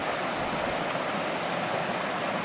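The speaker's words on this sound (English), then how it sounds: "Gradac is a river which gets its water from multiple sources." Gradac river flowing through a limestone gorge, a steady, full rush of water throughout with no breaks, close and fairly loud.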